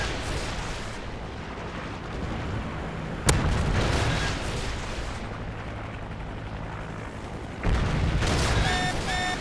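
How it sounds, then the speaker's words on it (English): Predator missile strikes in Call of Duty: Modern Warfare 3 gameplay land as two heavy, sudden explosions over a constant loud rumble of battle noise, with no talking. "Friendly Predator missile inbound."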